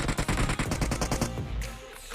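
Rapid automatic gunfire in PUBG Mobile bursts out in a fast rhythmic string of loud shots for over a second, then breaks off into a quieter tail with a final distant crack.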